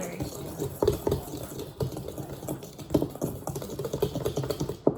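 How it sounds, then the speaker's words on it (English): A whisk clatters through dry biscuit ingredients in a bowl, making quick, irregular scraping and tapping strokes that sound close and moderately loud. "After all that's in there, just whisk it together, and it should look something like that."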